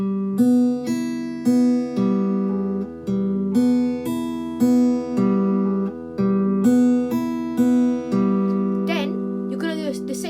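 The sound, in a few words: guitar open strings, song intro rhythm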